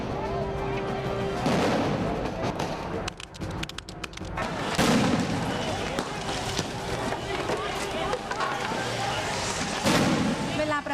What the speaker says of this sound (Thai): เจ้าหน้าที่ตำรวจ ระดมยิงระเบิดแก๊สน้ำตาเข้าใส่ประชาชน